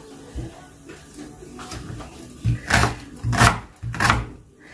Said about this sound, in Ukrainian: беремо цибульку і нарізаємо шматочками дві цибулини